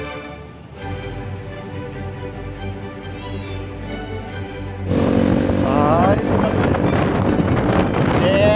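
Gusty wind roars and buffets the microphone, growing much louder halfway through, with a brief voice near the start.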